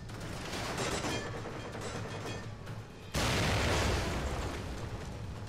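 A grenade blast in The Evil Within video game arrives as a sudden loud, broadband burst about halfway through. It follows a stretch of dense, noisy game combat sound and continues into a sustained roar.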